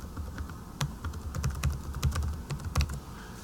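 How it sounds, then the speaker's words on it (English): Fingers tap steadily on a computer keyboard, producing a close, crisp series of irregular clicks with brief pauses between bursts, alone in a quiet room. "I could then type in this, and if you watch the code over here as I type this in"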